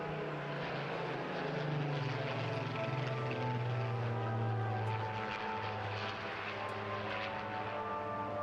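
A Spitfire propeller aircraft on its final pass at the Bournemouth Air Festival, a sustained droning engine roar with a low throbbing tone that swells slightly, then eases, heard from a distance without talk.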